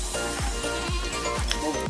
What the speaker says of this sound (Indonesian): kali ini pengiriman kambing